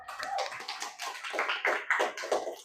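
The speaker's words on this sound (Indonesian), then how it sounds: "Tepuk tangan untuk kelompok 5" Classroom applause for a student group after answering a question, a brief spread of scattered hand claps and taps that rises and falls for a few seconds, moderately quiet and heard from across the room.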